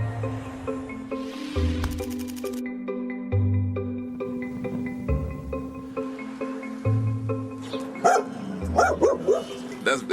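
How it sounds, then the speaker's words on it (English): A dog in Richmond barks in repeated sharp bursts with pauses between them, fairly close and loud, and some softer yips come in near the end. "You keep barking, that's good."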